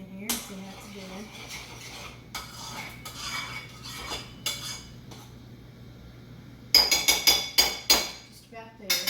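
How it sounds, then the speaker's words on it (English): A spoon clinks and scrapes against a pot while coconut cream pie filling is stirred, a series of sharp metallic taps that grow louder and more rhythmic near the end, with a brief voice early on. "Stir it again here."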